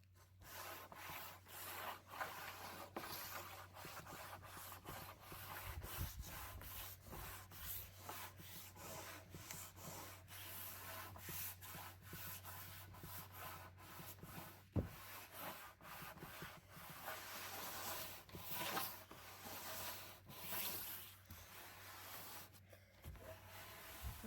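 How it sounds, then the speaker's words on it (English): A new wood board is sanded by hand outdoors in the wind to make it look like barnwood, a continuous close scratchy rubbing with quick rhythmic strokes and a faint steady low hum underneath. "And then sand it."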